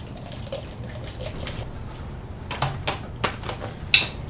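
Coconut water poured in a home kitchen for a drink, a soft trickling liquid stream with a few small drips and light clinks, fairly quiet and heard alone without talk.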